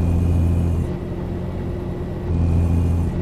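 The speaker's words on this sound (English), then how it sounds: "The engines for this truck is pretty, they're very quiet, as you can tell" Freightliner FLC truck engine in Euro Truck Simulator 2, a quiet, steady low rumble and whir that eases off briefly and swells again, with no one talking.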